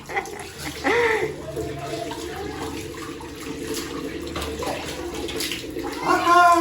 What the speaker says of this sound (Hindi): सीधा पानी जाए नीचे।